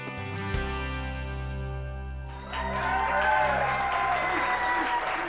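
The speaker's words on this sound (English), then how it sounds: "Very well-deserved applause for Bill Sandillo and his team." Audience applause for a US military all-stars team, a steady wash of clapping that swells and grows denser partway through, heard over a sustained musical backdrop.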